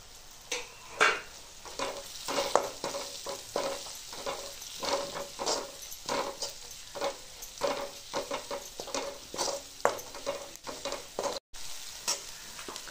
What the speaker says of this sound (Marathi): व्यवस्थित सगळं आता तेलामध्ये भाजून घेतले